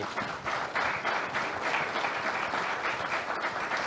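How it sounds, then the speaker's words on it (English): A studio audience on a daily talk show breaks into brisk, continuous applause, a close, even wash of clapping hands with no speech over it. "Give him a hand clap, people."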